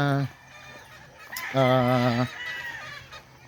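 Gamefowl crow and cluck nearby at a gamefowl festival, with two loud drawn-out rooster crows and scattered clucks in between. Faint background noise fills the gaps.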